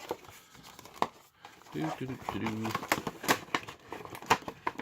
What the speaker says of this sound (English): Pull out plastic and lay the box to the side.